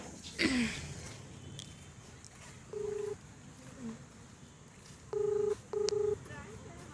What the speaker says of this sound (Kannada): ಓಕೆ, ಕಾಲ್ ಮಾಡಿ. ಲೌಡ್ ಸ್ಪೀಕರ್ ಹಾಕಿ.